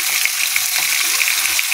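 Pangas fish pieces go into a pan of lightly fried potatoes for a Bengali sour fish curry, giving a short, bright, continuous sizzle with faint crackles.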